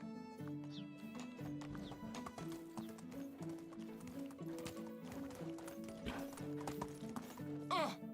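Horse hooves gallop in the medieval village game Medieval Dynasty, a quick steady clip-clop rhythm under game music, with a brief whinny near the end.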